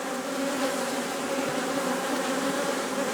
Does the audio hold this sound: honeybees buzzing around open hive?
yes